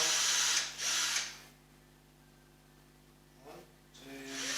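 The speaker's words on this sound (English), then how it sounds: "1, 2, 3rd step on my step drill." A step drill bores through material during a double-neck guitar build, whining loudly in two short bursts, then dropping out to near silence before spinning up again at the end, close and harsh.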